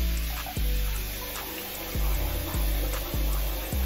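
Water runs steadily from a tap into a sink during a face wash, a close continuous splashing hiss broken by several sharp low thumps and gulps as hands scoop and splash, with no talking.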